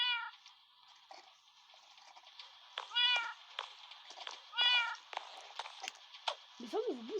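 Cats meow repeatedly in a survival video game, with several clear, wavering meows spaced over a faint, steady background hum and a final drawn-out yowl.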